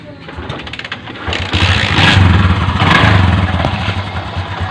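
A Bajaj CT 125 motorcycle engine starts up and settles into a loud, rough idle with a steady clattering rumble close by.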